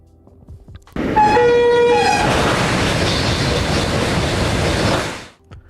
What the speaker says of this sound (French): Notre TGV s'engage ensuite sur la LGV Rhône-Alpes.